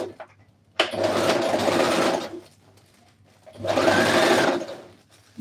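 A sewing machine stitches a shirt in two steady bursts of a few seconds each, a dense continuous whir close by, separated by a quiet pause.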